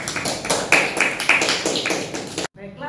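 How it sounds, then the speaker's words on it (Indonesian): Students in a classroom clap their hands in a rhythmic burst of sharp, fairly close claps, steady for about two and a half seconds before cutting off, followed by a voice speaking. "Baik, berikan tepuk tangan."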